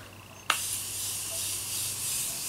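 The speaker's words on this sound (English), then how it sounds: "I'm going to be using the Morphe Continuous Setting Mist to lock everything in place." A Morphe Continuous Setting Mist setting spray is sprayed in one sudden burst that settles into a steady, close, fine hissing mist lasting a couple of seconds, with no talking.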